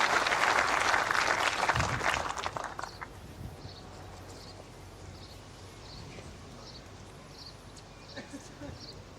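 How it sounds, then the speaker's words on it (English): Spectators at a men's singles lawn bowls final between Canada and New Zealand applaud a good first bowl, a brief burst of clapping that fades after a couple of seconds into quiet outdoor ambience with faint birdsong. "The crowd applauds."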